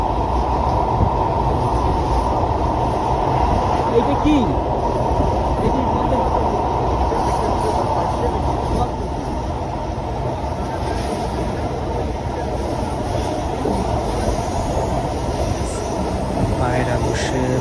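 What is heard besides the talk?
Dhaka metro rail train running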